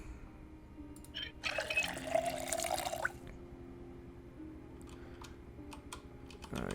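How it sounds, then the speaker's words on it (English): Water fills a container in the Project Zomboid video game, a short bright pouring splash of about two seconds set over faint keyboard typing and a low background hum, fairly quiet overall. "Let's fill up our water."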